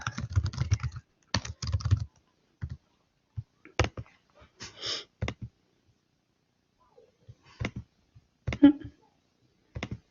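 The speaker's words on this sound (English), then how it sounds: "you can type text here, or add what you want" Computer keyboard typing while entering text into a slideshow editing program, with irregular bursts of nearby clicking keystrokes separated by short pauses.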